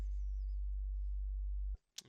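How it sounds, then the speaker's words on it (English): A synthesized sine wave plays as a single steady low tone, holding unchanged for under two seconds. It cuts off abruptly and is followed by a brief high blip. "that's a sine wave. It's just one single tone"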